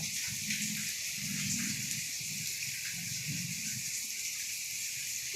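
Heavy evening storm rain falling in Mahachai, Thailand, a steady dense hiss that continues without a break, with a low rumble underneath and no voices.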